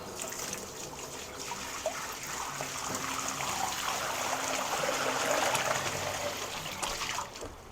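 Water poured from a container onto a block of growing medium in a vermicomposting setup, a steady splashing trickle that runs continuously and close by, slightly swelling in loudness toward the end.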